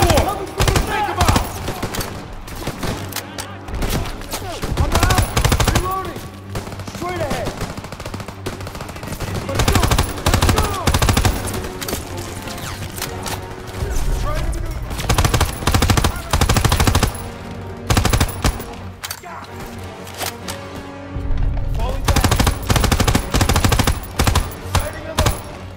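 Loud, close machine gun fire from a second-floor MG position in Call of Duty WWII, long bursts of rapid shots repeating throughout with brief gaps and shouting soldiers between.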